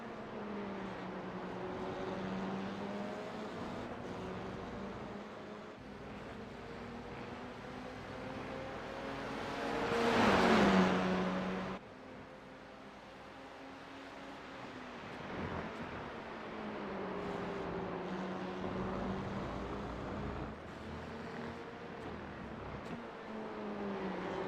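Formula 4 race cars in iRacing at the Circuito de Jerez drone past with steady high engine whine, rising and falling through gear changes, one car swelling loudly close by before the pack fades back to a continuous distant buzz.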